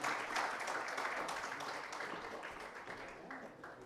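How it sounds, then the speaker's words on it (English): Audience at a conference session on digital commerce gives a round of applause, a soft, fairly distant patter of clapping that slowly fades. "with bigger round of applause, please thank the gentlemen"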